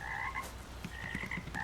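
Frogs in the Gone Fishing horror fishing game croak in repeated raspy bursts, some overlapping, over a steady outdoor night ambience without talk.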